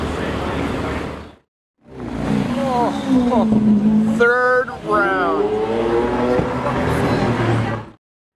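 A Dodge SRT Hellcat drives past, its loud engine rising and falling in pitch as it goes by, with a brief gap early on and excited voices talking over the pass.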